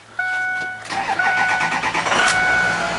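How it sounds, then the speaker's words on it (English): A 2005 Ford F250 Lariat FX4 crew cab pickup cranks briefly with a whirring starter, catches and fires up, then settles into a steady, close, loud idle with no talking. "Cranks right up. No issues. Just runs perfect, hot or cold."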